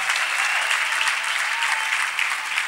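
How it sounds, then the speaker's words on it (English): A church congregation claps together in sustained, dense applause during a testimony service, steady and fairly loud throughout with no break. "Can you clap for Master Jesus?"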